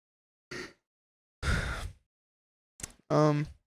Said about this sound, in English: not covering mouth while yawning